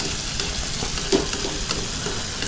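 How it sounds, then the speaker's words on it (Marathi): Egg tawa masala bubbles on a high flame as its water cooks off, a constant close sizzle with light stirring clinks and no voices. "पूर्ण पाणी आपण आटवून घेऊ त्याच्यातलं। एक 2-3 मिनिटं त्याला लागतील मोठ्या आचेवर"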